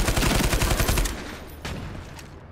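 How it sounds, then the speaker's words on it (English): In the online shooter Ironsight, a submachine gun with a 100-round magazine and heavy recoil fires a rapid, loud burst for about a second, followed by a few scattered distant shots. "this is like a submachine gun with 100 bullets and terrible recoil"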